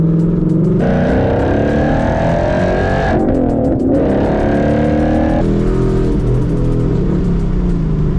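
A Ford Mustang S550 with a Coyote V8 pulls hard through its gears. The engine note climbs, briefly drops at each shift, then climbs again, loud and close the whole time with no talking.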